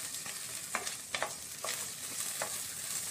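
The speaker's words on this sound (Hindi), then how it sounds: "चावल और दाल दोनों को हम 5-10 सेकेंड के लिए भून लेते हैं।" Rice and lentils dry roasting in a pan for sweet pongal, a steady dry sizzle with a few sharp scraping stirs of the spoon, close and continuous with no voices.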